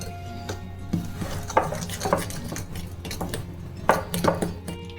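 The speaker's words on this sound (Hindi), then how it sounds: "अब इसमें बटर डालेंगे और इसे भी मिक्स कर लेंगे।" Sugar and butter being mixed in a bowl for a no-bake choco pie filling, with repeated clinks and scrapes of a spoon against the bowl in an uneven rhythm, close by, with no talk.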